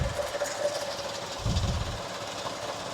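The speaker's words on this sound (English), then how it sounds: "Really starting to get to know with this auger now." A brewery auger runs on brew day with a steady low mechanical drone and rhythmic knocking, a slightly heavier rumbling surge midway, and a faint constant tone over the motor noise.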